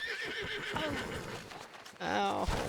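A horse in Red Dead Redemption lets out a loud, close whinny in the last second, after a brief exclamation from a person and some background game sounds.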